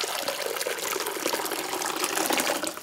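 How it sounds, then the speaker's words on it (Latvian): Water pours steadily into a large bowl in a Rucava home kitchen, a loud, close, continuous splashing gush with no voices over it. "tad liesim to ūdeni iekšā te bļodā, te lielajā bļodā"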